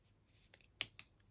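A few quick scissor snips cutting paper, sharp crisp clicks in a short sequence, close and otherwise quiet.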